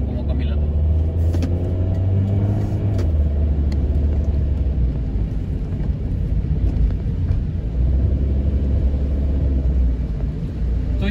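A car engine rumbles low and steady while moving forward through traffic, with a slight rise and fall in pitch as it pulls ahead; someone talks over it.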